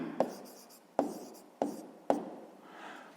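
Pen or pencil writing a number by hand on paper, heard as four sharp, separate scratchy strokes spaced about half a second apart, close and quiet with no talking.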